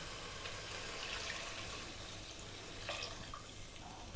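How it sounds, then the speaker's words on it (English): Six cups of water pour into three cups of rice in a pot, a soft, steady, faint splashing and trickling with no voices. "we're going to add 6 cups of water."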